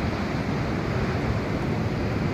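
Broadband wash of Atlantic Ocean surf at Land's End in Cornwall, a steady, fairly loud roar mixed with wind buffeting the microphone, with no voices.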